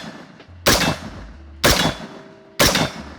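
Three loud, sharp rifle shots ring out about one second apart from an Andro Corp ACI-15 Bravo 16, a budget AR-15 chambered in .22, each with a brief crack and short decay, and no talking.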